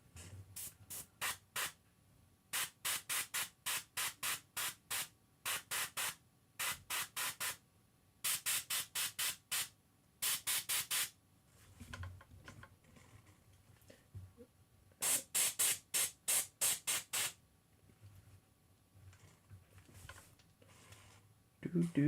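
An aerosol can spray-paints a miniature in repeated quick bursts of close hiss, each run of short sprays separated by pauses, with a voice briefly audible in the quieter gaps.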